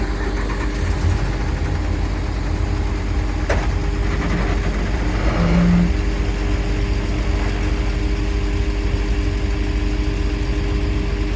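A Mercedes engine at idle, a steady close, loud mechanical drone with a constant low hum and a faint repetitive ticking mixed in, no voices.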